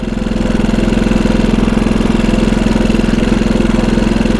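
A 99-year-old TT racing motorcycle engine runs steadily up close, its loud, even, rapid firing pulses holding a constant rhythm with no voices over it.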